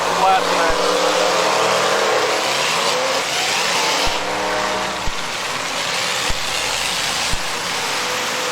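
Race cars roar around a nighttime figure-eight oval track, engines droning loud and continuous with a few sharp thumps, as an announcer talks over the racing.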